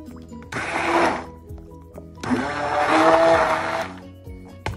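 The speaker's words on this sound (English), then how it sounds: "you basically just blend the coconut oil right with the oil" Blender mixing coconut oil with other oils for coffee soap, two loud whirring bursts about a second and a half long each, separated by a short pause.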